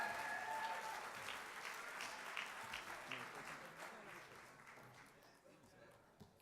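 Sustained applause from an awards-ceremony audience honoring achievers, dense and steady at first, then gradually thinning and fading toward the end.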